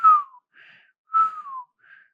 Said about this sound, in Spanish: sibilancias, un silbido al expirar